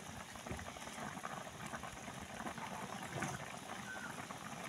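Chicken adobo simmering in a pan gives a steady, soft bubbling and gentle crackle that holds evenly throughout, with no talking.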